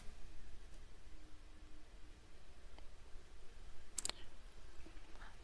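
A computer mouse gives a single faint click, with a couple of softer ticks around it against quiet background hiss.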